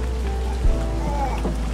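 Steady rain falls in an outdoor short-film scene, a continuous hiss of drops over a deep low rumble, with a faint thump midway.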